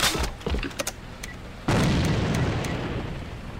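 An explosive charge detonates in a video game with a sudden loud boom that rumbles and fades over the next two seconds, following a few sharp clicks and knocks.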